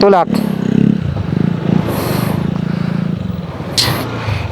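A motor scooter engine labors along a rough mountain road of crushed rock and grass, its steady drone running loud and close throughout beneath clattering and scraping, with a sharp rev burst near the end.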